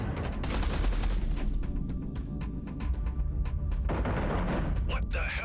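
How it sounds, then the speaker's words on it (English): Heavy artillery fire in the Everspace 2 space shooter, with a dense, loud barrage of booming volleys in the first seconds, then separate rapid blasts and another burst near the end. "Eduardo, concentrate artillery fire on Blakemore's carrier"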